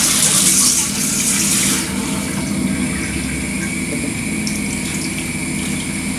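Tap water runs steadily into a cooking pot in a home kitchen, loudest for the first couple of seconds and then settling into a softer, continuous flow.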